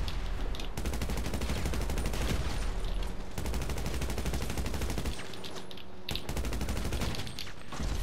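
Sustained rapid gunfire in the video game GTA V, dense automatic bursts firing almost continuously with brief gaps, loud and close, with no talk over it.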